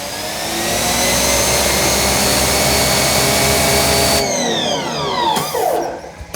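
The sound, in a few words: EGO HPW3200 pressure washer spraying with spinning nozzle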